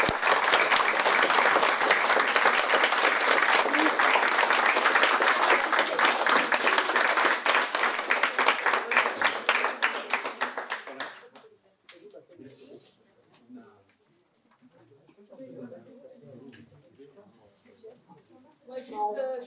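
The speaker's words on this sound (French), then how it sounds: "Merci pour les applaudissements." An audience applauds after a student's speech at a school tribute ceremony, loud sustained clapping for about eleven seconds that stops abruptly, followed by quieter sounds and murmured talk.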